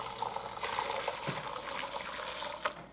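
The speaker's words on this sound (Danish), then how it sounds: "så sigter vi lige vandet her fra kyllingen" Water pours off cooked chicken through a strainer in a home kitchen while making tartlets, a steady splashing gush with small gurgles and drips, close and continuous, with no talking.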